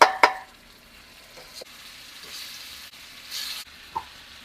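Oxtail and onions frying in oil for a Jamaican curry, a soft steady sizzle with a few sharp clicks and utensil taps, close and fairly quiet.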